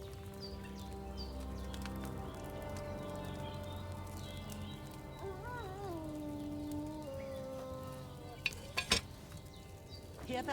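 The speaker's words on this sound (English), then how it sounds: "Hear that bubbling? It's boiling." A cauldron bubbles and boils over a flame in the video game Kingdom Come Deliverance 2, a soft steady simmer running beneath tonal background ambience, with a few sharp clicks near the end.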